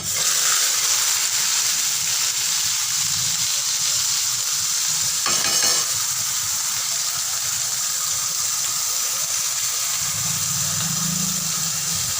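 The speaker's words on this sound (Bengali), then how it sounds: "জিরেটা ভাজা হয়ে গেছে, এবার মশলাটা দিয়ে দিচ্ছি।" Ground onion-garlic spice paste drops into hot oil with fried cumin seeds, setting off a loud, steady sizzle and hiss that stays strong throughout, with a brief stirring scrape partway through and no talking.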